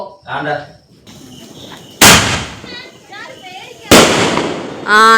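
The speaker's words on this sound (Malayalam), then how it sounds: "നമുക്ക് പടക്കം പൊട്ടിക്കാം" Two loud, sharp Diwali firecracker bangs burst nearby in Thiruvananthapuram a couple of seconds apart, with people talking between them.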